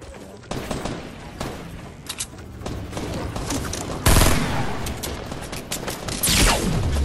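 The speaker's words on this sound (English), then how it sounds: "I hit him with the sniper shot" Gunfire from a Fortnite battle royale squad match, several sharp sniper rifle cracks and bursts of shots cutting through a busy mix, with players talking over the fighting.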